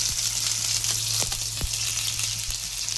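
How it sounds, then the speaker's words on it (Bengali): Chopped onions frying in hot oil with whole spices and bay leaf, a loud close crackling sizzle throughout with a few sharp spatula knocks against the pan. "পেঁয়াজ কুচি দিয়ে একটু লাল লাল করে নেব"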